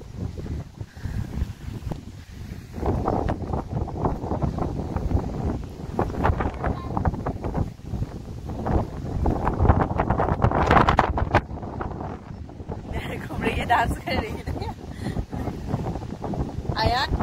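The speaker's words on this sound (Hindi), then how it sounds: "हवा चल रहा है।" Wind gusts steadily across a viewpoint overlooking the Barachukki waterfall at Shivasamudra, a loud continuous rush buffeting the microphone for the whole stretch, swelling in the middle and easing slightly near the end.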